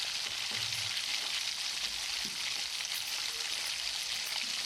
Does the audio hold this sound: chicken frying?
yes